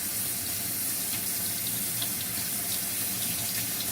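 Sea moss being rinsed and rubbed under a running kitchen tap, a steady close hiss of water splashing into the sink throughout with no talking.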